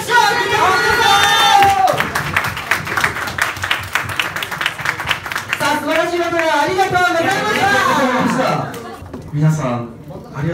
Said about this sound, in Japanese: 素晴らしいバトルを繰り広げてくれたこの3名に大きな拍手を送ってください